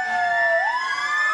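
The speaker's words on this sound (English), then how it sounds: "Ambulance is now coming" An ambulance siren wails close by during an Independence Day parade, a loud sustained tone that rises in pitch partway through.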